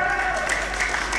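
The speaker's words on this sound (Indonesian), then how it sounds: "Cijelani tepuk tangannya mana?" An audience claps for the Cijelani team during a game at a 30th school reunion, a short steady burst of applause with voices mixed in.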